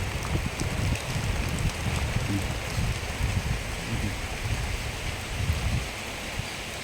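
Heavy rain blows in and lashes down, a loud steady hiss of drops pounding surfaces with gusty bursts of wind, continuous from start to end.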